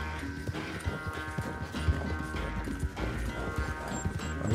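Galloping horse in Red Dead Redemption 2, pushed hard in a race, with fast rhythmic hooves clip-clopping steadily under game music and effects, loud and close throughout.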